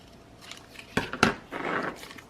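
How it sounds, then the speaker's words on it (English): Scissors make two sharp snips through paper, followed by a brief rustle, close and fairly quiet. "So I'm going to take my scissors. I'm going to cut this."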